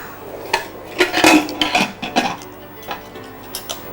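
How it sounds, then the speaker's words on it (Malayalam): Metallic clinks and clacks of a pressure cooker lid being fitted and closed over yogurt chicken, a quick cluster of knocks followed by a few lighter taps. "ഇനി ഈ കുക്കർ ഒന്ന് അടയ്ക്കുക."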